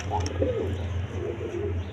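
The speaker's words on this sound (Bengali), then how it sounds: "কবুতর দেখেন কোয়ালিটি সম্পন্ন কবুতর" Domestic pigeons coo in a short soft phrase at close range over a steady low hum, with brief higher chirps near the start.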